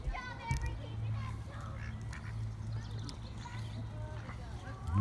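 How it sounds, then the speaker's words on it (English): A duck of unknown species quacks now and then in a city park with geese nearby, fairly faint amid steady low outdoor rumble, while people talk and children's voices carry in the background. "it's a duck, but I'm not sure what kind"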